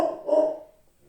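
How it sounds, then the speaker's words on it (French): A female dog gives a single moderately loud bark indoors, which fades quickly into quiet. "Ma chienne aboie"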